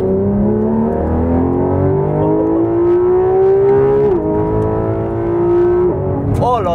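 A Porsche 911 GT3 RS engine revs hard in sport mode with its exhaust valves open, a loud rising mechanical howl climbing in pitch through gear shifts, close and continuous.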